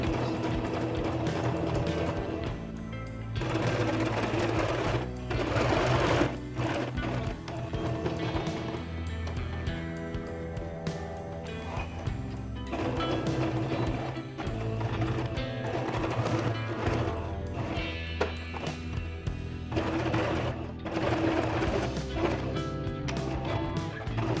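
A sewing machine back-stitches through heavy denim from upcycled jeans while a seam is sewn for a fabric basket. Its steady mechanical whir runs throughout, loud and close, in a series of bursts and pauses as it stitches back and forth.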